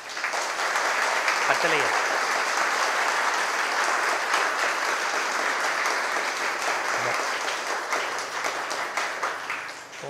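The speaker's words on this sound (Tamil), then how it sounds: "இந்த தலைவர், செயலாளர், பொருளாளர், இந்த எக்ஸிக்யூட்டிவ் கமிட்டி மெம்பர்ஸ் எல்லாருக்கும் ஒரு நிமிஷம் இடைவிடாத ஒரு கைத்தட்டு கொடுத்துடலாமா?" A large audience at a Tamil pattimandram debate gathering gives sustained, even applause for about ten seconds. The clapping stays at a constant level, with a brief voice heard near the start.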